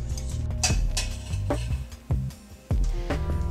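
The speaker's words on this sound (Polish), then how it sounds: "prażę pestki słonecznika na odrobinie oliwy z oliwek. Pestki muszę cały czas mieszać" Sunflower seeds being stirred as they toast in a little olive oil in a pan, with repeated metallic utensil scrapes and clinks over a steady sizzle, close and fairly loud, no speech.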